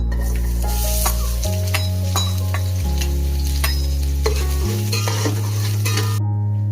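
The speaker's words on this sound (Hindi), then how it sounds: "मैंने पतीले में 200 ml ऑयल डाला है और मैं इसमें ऐड करूंगा 2 अदद बिग साइज की प्याज स्लाइस कटिंग में" Two large sliced onions sizzle and fry in about 200 ml of oil in a deep pot, a steady loud crackling hiss with occasional clinks of a utensil, no voices, over a low droning background tone.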